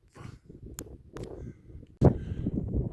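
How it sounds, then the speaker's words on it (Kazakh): Several short, harsh caws from crows ring out outdoors, fairly close, in quick irregular bursts. "Қарғалар да жүр міне"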